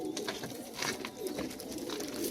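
Soft coos from a flock of Ababeel breed pigeons repeat, low murmuring calls layered over rustling and wing flutters, fairly close and continuous.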